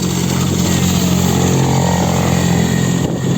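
A small Storm outboard motor on a small inflatable boat runs loud and close, a steady buzzing drone with a constant low hum throughout, no speech over it.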